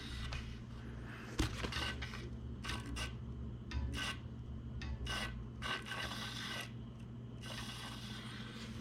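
Rasping, rubbing friction from a mountain bike part catching during a tune-up, a steady scraping texture with bursts of sharper scrapes over a low mechanical hum, close and fairly quiet.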